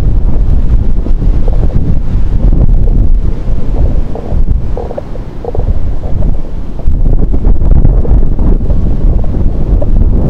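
Strong typhoon wind buffets the microphone with a continuous low roar, while waves wash and surge on the shore at Baler, Aurora, in the background; no voices.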